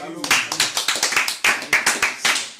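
Rhythmic applause with bursts of clapping hands at a religious gathering during a French-language sermon, a lively congregation clapping in quick repeated waves close by.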